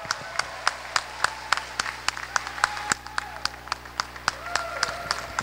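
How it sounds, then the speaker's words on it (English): An indoor crowd at a swim meet applauds a swimmer after the 100 yard backstroke, steady overlapping claps with sharp distinct hand slaps ringing in a reverberant pool hall, alongside a low constant hum. "Listen to the crowd giving her a round of applause"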